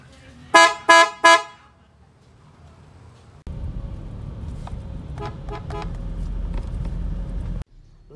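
A PIAA Superior Bass Horn fitted to a Toyota Fortuner sounds three short, loud honks in quick succession, followed by a steady rumbling engine and road background.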